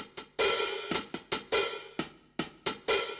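Bright, splashy open hi-hat hits on a Yamaha DTXpress IV electronic drum kit in an uneven pattern, each sizzle opening and cut short by the next strike, close up with no voices.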